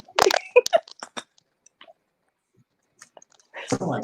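A dog's crunchy chewing of food, a few quick crisp bites close to the mic at first, then quiet, ending in a louder burst of crunching.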